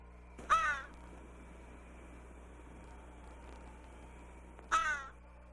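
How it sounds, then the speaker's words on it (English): A crow caws twice from a tall tree, two harsh distinct calls several seconds apart over a steady low outdoor hum. "Just where was that crow? Oh, up in that tall tree."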